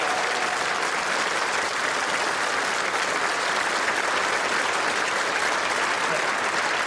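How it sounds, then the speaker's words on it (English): Steady, full applause from a studio audience at a motoring television show, a dense continuous wash of clapping that holds at an even level throughout. "Round of applause."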